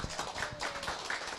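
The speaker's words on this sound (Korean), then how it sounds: "박수로 환영합니다." A church congregation claps at a Korean revival service to welcome a guest pastor, a short patch of scattered, fairly quiet handclaps in a large room.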